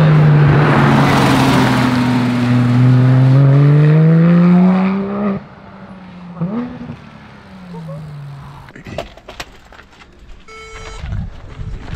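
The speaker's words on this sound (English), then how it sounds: "4-liter natural aspirated engine." A German 4-liter naturally aspirated car engine revs hard and loud for several seconds, its pitch climbing, then drops away to quieter idling and scattered background noise.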